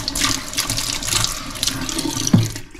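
An item is washed under a running kitchen tap, with continuous close splashing and gushing water and a brief clunk near the end.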